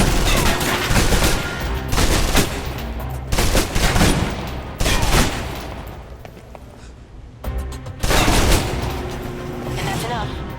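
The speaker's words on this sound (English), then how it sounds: "If you're trapped in close quarters with multiple opponents, the SMGs can help clear the room quickly." Submachine gun fire erupts in close-quarters combat in the 2010 game Alpha Protocol, loud rapid bursts separated by short pauses, with occasional heavier booms and speech murmuring underneath.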